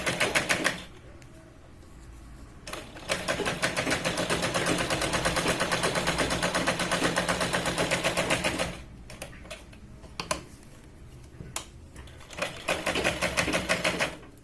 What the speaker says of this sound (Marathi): या अस्तरवाली पट्टीवरती हिला आपण पूर्ण जे आहे ते शिलाई लावून मॅच करून घेणार आहोत या पद्धतीने